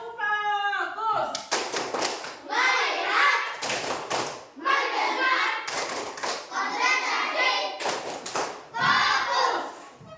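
Sixth-grade class of children performing a rhythmic focus clap in an Indonesian classroom, repeated bursts of hand claps and thumps between loud group chanting, close and energetic.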